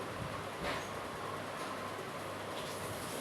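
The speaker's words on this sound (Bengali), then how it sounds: "আস্তে আস্তে করে দিবেন আর ব্লেন্ডার করবেন" A blender runs with a steady, unbroken roaring whir as flour batter is mixed, loud and constant throughout, with no voices.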